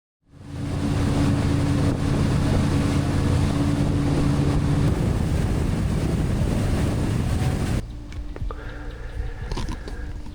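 A DIY inflatable remote-controlled boat cruises along a river, its steady motor and rushing water with wind buffeting the microphone loud and continuous, then dropping to a quieter, thinner wash near the end.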